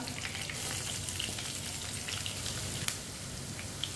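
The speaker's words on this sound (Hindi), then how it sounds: "प्याज को हल्का सा ब्राउन कर लेंगे" Chopped onion and whole cumin seeds fry in half a cup of oil, giving a steady, dense sizzle with faint crackles and pops, close and continuous throughout.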